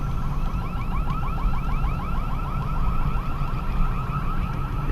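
A store's electronic alarm blares at night, a loud continuous warbling tone with rapid repeating sweeps, sounding steadily throughout with no talking.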